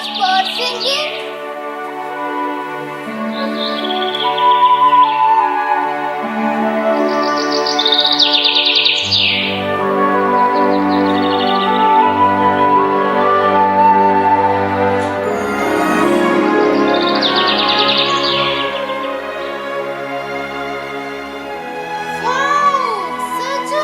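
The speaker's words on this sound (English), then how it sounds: "Let's listen to those birds singing." Birds sing loudly and continuously, with sweet warbling phrases and high, rising chirps over a steady bed of song.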